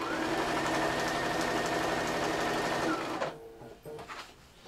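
A sewing machine quilting flannel with batting runs in a fast, steady mechanical whir up close, then stops abruptly, leaving a few faint clicks and handling noises.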